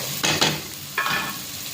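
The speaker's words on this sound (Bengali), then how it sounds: "রসুন আর পেঁয়াজ জিরার সাথে ভালো করে বনে নেই" Garlic and onion fry with cumin in a pan, giving two short bursts of sizzling and stirring close up, then a second sizzling burst that settles into a steady soft crackle.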